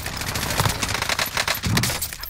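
Rapid automatic gunfire in a Call of Duty Warzone battle royale match, dense bursts of shots crackling close and loud across the whole moment.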